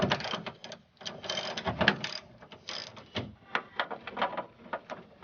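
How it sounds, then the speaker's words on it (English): A ratchet on an extension backs out a small bolt on a Cadillac door. Quiet, close, irregular bursts of rapid clicking with short pauses between. "You need an extension with the ratchet."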